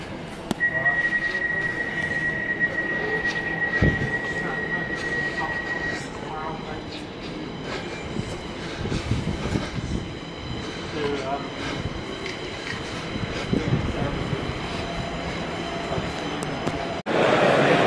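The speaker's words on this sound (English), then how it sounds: "we're going on Docklands Light Railway" Steady rumble and rattle of a Docklands Light Railway train in motion in London, heading towards Beckton, with a brief high tone early on and people talking over the running noise.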